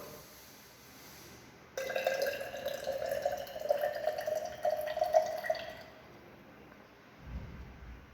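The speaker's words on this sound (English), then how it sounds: "Then we have to make up the volume up to 50 ml by using distilled water." Distilled water is poured into a flask to make a solution up to 50 ml, a steady close trickle starting abruptly and running for about four seconds before stopping, followed by a soft low thump.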